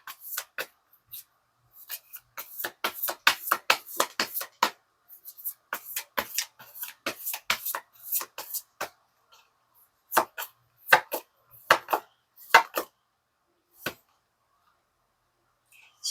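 Tarot flower-language cards are shuffled and laid out, producing clusters of crisp close card flicks and slaps in irregular bursts with quiet gaps between them, and no voices.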